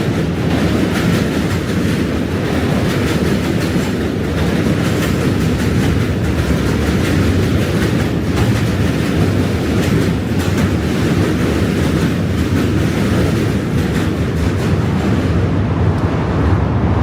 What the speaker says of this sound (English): Another train, Q train.